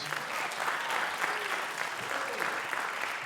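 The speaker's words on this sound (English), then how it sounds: "Can we get a round of applause for that?" Audience clapping steadily throughout, dense and continuous, with faint voices mixed in.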